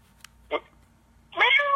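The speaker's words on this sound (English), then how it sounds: "My cat is just crawling all over me." A pet house cat gives a short chirping meow, then a louder, longer drawn-out meow close by, with a faint click just before and quiet room tone in the gaps.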